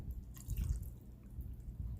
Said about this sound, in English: So we're just going to use some cooking sherry. It's a cup full. We're going to pour that in there.